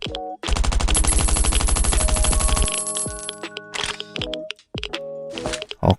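Rapid automatic gunfire rattles loudly for about two seconds while shooting a boss in the survival video game Last Island Survival, followed by scattered shots, metallic clinks and game effects.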